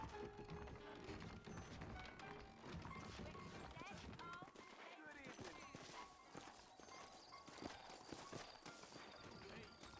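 Horses in the Western video game Red Dead Redemption clop along with steady hoofbeats and an occasional whinny, set under a full game soundtrack with spoken dialogue.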